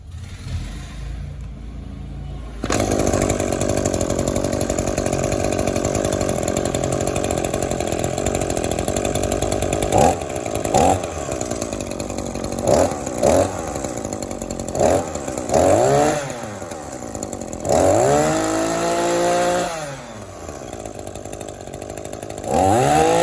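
After a fuel tank repair, a small engine cranks and catches after a couple of seconds, then runs loud and close with repeated throttle blips and revving rising and falling.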